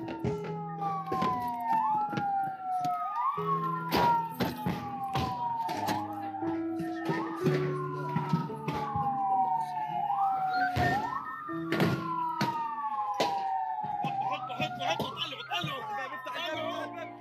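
A wailing ambulance siren in Gaza sweeps up and down repeatedly in a steady cycle, loud and close, with thuds, clatter and background chatter underneath.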